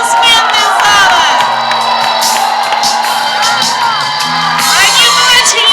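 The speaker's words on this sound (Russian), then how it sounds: "Аплодисменты из зала." An audience at a children's show applauds and cheers loudly, with dense clapping, shouting children and whoops filling the hall continuously.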